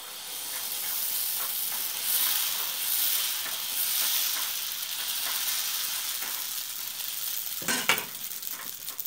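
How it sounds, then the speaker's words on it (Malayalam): Dosa batter spread onto a hot griddle sizzles in a steady, close hiss for about nine seconds, with a sharper crackling burst near the end and no voices. "അപ്പോൾ നമുക്കിനി ദോശക്കല്ലിക്ക് പറന്ന് കൊടുക്കാം."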